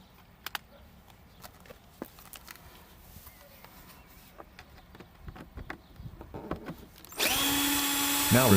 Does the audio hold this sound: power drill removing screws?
yes